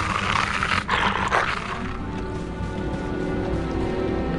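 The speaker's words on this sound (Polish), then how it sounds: "To brzmiało jak wycie psa." Dog howling in the Harry Potter and the Prisoner of Azkaban video game: a drawn-out, wavering canine howl over a steady wash of rain-like ambient noise, fairly loud and continuous, with no talk.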